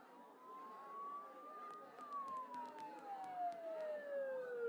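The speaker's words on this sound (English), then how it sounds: "Don't those sirens sound really close?" A wailing emergency siren in Persona 4 Golden, a single rising then falling tone sweeping slowly, moderately distant and faint, with soft background game ambience.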